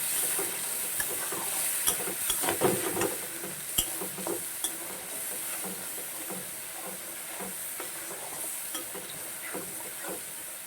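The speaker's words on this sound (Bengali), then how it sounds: "দিচ্ছি আদা, কাঁচা লঙ্কা আর টমেটো, নিরামিষ তো এটা। দিয়ে দিচ্ছি, অল্প ভাজবো মশলাটাকে।" Ginger, green chilli and tomato masala frying in a wok for a vegetarian pea, spinach and paneer dish, a steady close sizzle with scraping stirs and a few sharp utensil clicks against the pan.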